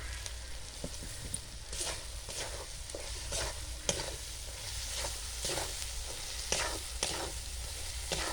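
Spices with salt, turmeric and chili powder sizzle and get stirred in a pan for a village-style chicken masala, with steady frying hiss and repeated scraping strokes of a spatula, close and continuous.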